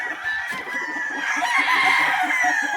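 Spartan Black gamecock rooster crowing and clucking up close, a steady run of loud calls with a brief voice in the background.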